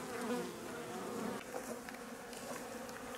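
Bees buzz around a beehive and water troughs where they gather water, a dense continuous hum of many insects with individual bees passing close, no voices.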